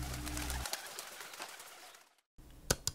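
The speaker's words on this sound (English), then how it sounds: "Pigeon." Pigeon cooing mingled with other bird calls, a steady near chorus for about two seconds, then a brief gap and a couple of sharp sounds.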